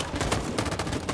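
Rapid bursts of gunfire in the Detroit: Become Human video game, a dense, continuous volley of shots rattling throughout the brief moment.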